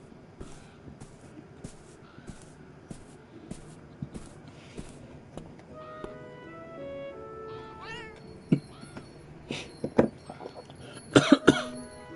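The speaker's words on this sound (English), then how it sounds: "Okay, so we're hearing a cat." A cat meows several times, with short cries starting faint and growing louder and more insistent toward the end, along with scattered footsteps and rustling nearby.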